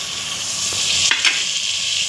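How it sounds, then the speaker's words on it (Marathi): Toor dal sizzling as it is sautéed in a pan with drumstick pods, a steady frying hiss with a couple of brief spoon scrapes and clicks near the middle. "तुरीची डाळ परतून घ्यायची"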